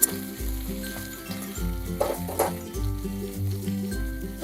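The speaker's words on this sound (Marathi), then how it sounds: "वांगे पण चांगले परतून घ्यायचे." Eggplant frying and being stirred in a pan for Maharashtrian bhogichi bhaji, a steady sizzle with repeated scraping stir strokes and light clinks of the utensil.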